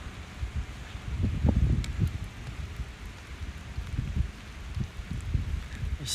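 Soft steady rain patters outdoors near the Blue Ridge Mountains and New River Gorge Bridge, with gusty low rumbles of wind buffeting the microphone; no voices.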